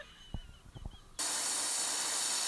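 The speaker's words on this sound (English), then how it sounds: "Sounds like they blew an air hose." A sudden loud, sustained hiss of air bursts from a blown air hose in an auto shop setting, cutting in abruptly after a few faint knocks and continuing steady to the end.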